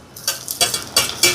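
Garlic and onion sautéing in a pan for a tin fish curry, with bursts of sizzling and stirring scrapes coming in short waves, close and fairly loud, no talking.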